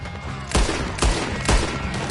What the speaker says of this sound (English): Guns in the camp! Look out!